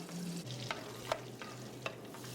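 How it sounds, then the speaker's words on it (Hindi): Cashews and walnuts frying lightly in ghee and butter over a slow flame, a soft steady sizzle with a few faint stirring clicks and taps, close but quiet, no voices. "पहले हम काजू और अखरोट को हम हल्का सा फ्राई कर लेंगे।"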